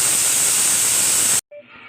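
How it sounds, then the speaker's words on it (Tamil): A pressure cooker on a stove, cooking cowpea rice, vents steam through its whistle in a loud, sustained hiss that cuts off abruptly, leaving a brief faint rattle of the settling weight. "இப்போ குக்கர் மூடி போட்டு விசில் போட்டுடலாம்."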